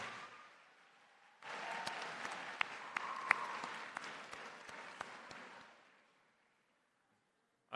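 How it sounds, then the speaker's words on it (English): Graduates at a university commencement ceremony burst into sustained applause for their families and friends. The clapping starts suddenly, holds steady at moderate distance and then stops abruptly, with no talk over it. "I want you to clap for them and thank them for all the love and support they've given you during your journey."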